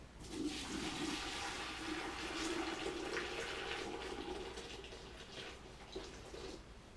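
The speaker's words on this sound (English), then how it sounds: "Pour this down the drain." Rushing, gurgling liquid drains steadily down a clogged bathroom sink for several seconds, a broad continuous wash that eases slightly toward the end.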